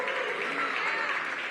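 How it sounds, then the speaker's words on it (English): An audience at an outdoor nightlife community rally in Washington, D.C. breaks into brisk, sustained applause, with a crowd murmur mixed into the clapping. "Let's give Councilmember Todd a big round of applause"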